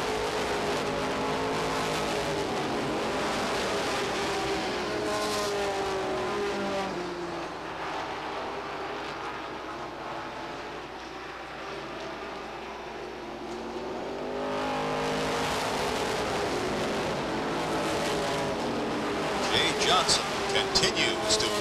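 Race cars at Beech Ridge Motor Speedway roar around the oval in a continuous pack, engines droning loud and steady, easing briefly mid-pass before swelling again, under constant announcer commentary.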